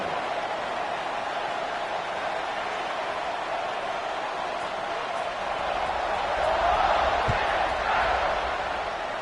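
A stadium crowd roars steadily before a football kickoff, a dense, distant wash of cheering that swells louder toward the end.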